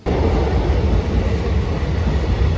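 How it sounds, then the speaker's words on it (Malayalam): A Kanyakumari-bound train rumbles loudly and steadily close by at a station, a continuous heavy roar of wheels and carriages with no voices. "ഇത് കന്യാകുമാരി പോകുന്ന ട്രെയിനാണ്."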